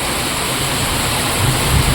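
Heavy rain pours during a drive along a flooded road, a steady dense hiss and roar with deeper low rumbling splashes building toward the end.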